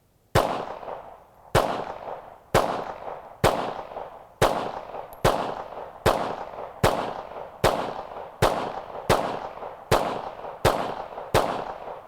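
A full-steel Hudson H9 pistol fires thirteen sharp, evenly spaced gunshots outdoors, each loud crack trailing off in a brief echo before the next.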